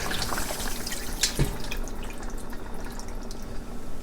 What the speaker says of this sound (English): I'm gonna add 2 cups of water to the pot.